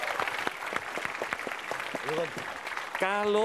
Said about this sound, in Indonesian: tepuk tangan buat Riko Ceper